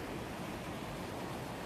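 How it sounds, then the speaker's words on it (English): Running water of a fresh mountain stream in snowy woods near Bansko, Bulgaria, a steady, faint, broadband rush with no break. "I've got lovely running water next to me"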